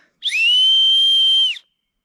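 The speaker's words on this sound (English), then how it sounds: "we've essentially made a whistle" A single loud, shrill whistle blast held steadily for over a second, clean and piercing, then cut off into silence.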